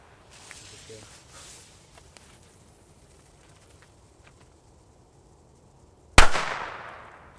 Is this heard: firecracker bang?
yes